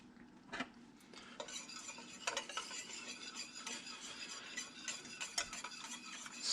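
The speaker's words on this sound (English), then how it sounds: "Stir it in." A spoon stirs chicken curry with dried jalapenos in a pot, giving soft, continuous scraping and light clinking against the metal, quiet and close throughout.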